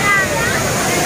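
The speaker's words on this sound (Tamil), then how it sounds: "தண்ணியை பாருங்க பின்னால நல்லா தண்ணி வந்துட்டு இருக்கு." Water from Kutralam waterfall rushes in a dense, steady roar close by, with a voice briefly audible over it.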